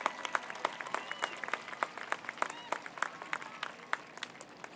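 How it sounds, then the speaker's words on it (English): Audience applause at a high school graduation ceremony, a sustained, crisp patter of many hands with sharper individual claps standing out, moderately loud and continuous with a faint voice mixed in. "One more round of applause for these two amazing ladies."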